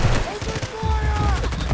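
Gunfire in the mobile shooter Delta Force Mobile during an attack-and-defend match, rapid continuous bursts at close range mixed with distant shots, under shouted voice commands.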